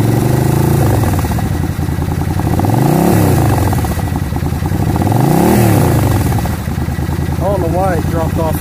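A motorcycle engine revs repeatedly during a carburetor sync, loud and close, with two rising and falling throttle blips over a steady idle and a quicker flurry near the end; someone talks over it.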